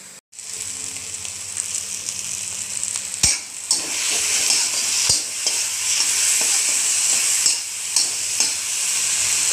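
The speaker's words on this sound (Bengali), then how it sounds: "ভাজি ল'লোঁ" Mushroom and roselle leaf curry sizzles steadily in a hot pan while a utensil stirs and scrapes it in sharp, intermittent strokes, close and fairly loud.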